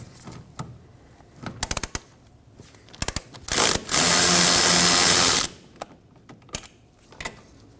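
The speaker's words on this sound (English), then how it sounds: "I'll be removing it using a socket and extension." Ratchet and extension backing out a 10mm bolt on a Ford Transit Connect, scattered close ratchet clicks, then a loud steady buzz of rapid spinning for about a second and a half, followed by more clicks.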